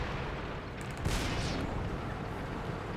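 Tank cannon fire and shells striking armor in World of Tanks: a dull boom lands amid a constant rumbling battle din, muffled and fairly faint, with no talk over it.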